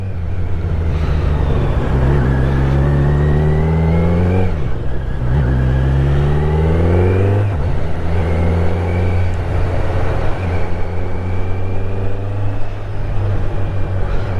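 Kawasaki Z900 motorcycle engine under way, loud and close, rising through revs and dropping at gear changes several times, with steady wind rush throughout.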